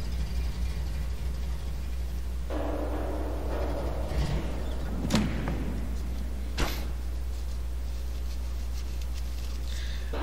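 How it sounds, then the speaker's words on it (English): Half-Life 2 car sounds play in a Portal 2 workshop map: a low steady engine rumble runs throughout, with a louder mechanical passage in the middle and a few sharp knocks. "I like that you use some of the Half-Life 2 car noises there."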